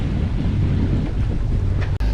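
Sailing yacht at sea on a multi-day passage to Madeira in light wind, with a steady close rush of wind and water noise against the hull, a brief dropout near the end, no voices.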